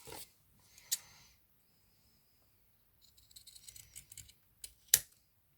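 Scissors snip through layered satin ribbon pinned together for a hair bow: a few short, crisp close-up cuts separated by quiet pauses, with one sharper final snip.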